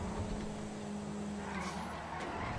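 A Porsche Cayenne with a turbo build brakes hard and skids on a highway exit in GTA 5, with a steady engine drone and tire noise throughout the short stretch.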